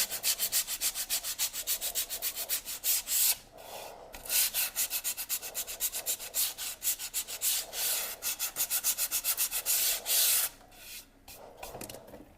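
Rhythmic hand sanding of epoxy resin, quick back-and-forth rasping strokes close up, with brief pauses between bursts of scrubbing.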